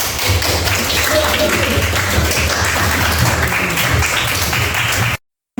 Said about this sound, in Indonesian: Dan tepuk tangan untuk Diko, anak.